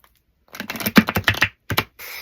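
Tarot cards riffled and shuffled in the hands, a quick run of crisp papery clicks and flutters in two short bursts, close and fairly loud with no talk.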